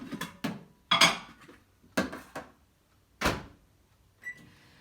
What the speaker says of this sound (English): And now I'm going to put this in the microwave.